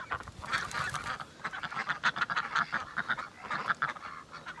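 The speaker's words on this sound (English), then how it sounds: "Let the ducks out to play in the snow." Gray ducks out playing in the snow, quacking repeatedly in loose overlapping bursts, a few birds close by and moderately loud with quiet gaps between calls.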